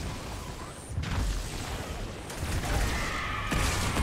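Gunfire in the Halo 2 video game, dense and continuous with heavier blasts swelling near the start and again toward the end, loud and close with no talk over it.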